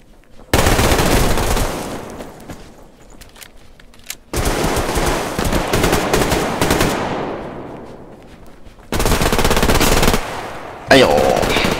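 Loud bursts of gunfire in a video game, rapid volleys in three long stretches with brief gaps, punctuated by sharper single reports near the end, close and dense with no talk over it.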